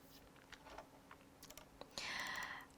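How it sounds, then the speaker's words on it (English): Fingers type on a computer keyboard, a quiet, close patter of scattered key clicks over a faint background hum, followed by a brief burst of broader noise at the end. "Let's just type it"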